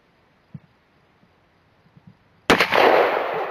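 A single loud, close .50 caliber Desert Eagle handgun shot cracks sharply after a few quiet footsteps or handling knocks, then rings out in a long echoing outdoor tail.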